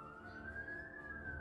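An ambulance siren drones in one sustained, slowly rising wail, fairly faint and steady over a low background rumble.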